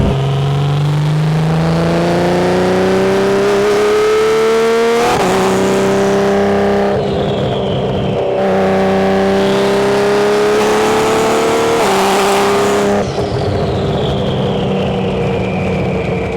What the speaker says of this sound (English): the sound of this car and the turbos are crazy